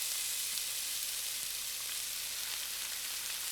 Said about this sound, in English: And then just a gentle fry, not a massive sizzle.